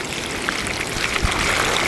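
Crystal-clear stream water flows beneath a footpath in Lathkill Dale in the Peak District, making a steady, close trickling rush that fills the whole stretch without any voices.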